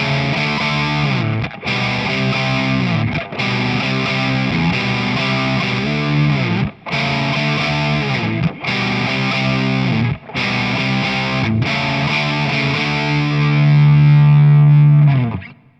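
Distorted electric guitar from a Stratocaster played through a Vox Night Train 15H valve head, loud sustained chords in bursts separated by short breaks, ending on a long ringing held chord.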